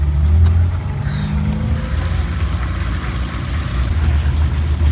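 A car on the move gives a steady low engine and road drone, heard from inside the cabin and holding constant throughout.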